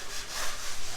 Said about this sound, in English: Mr. Henry here is doing some sanding.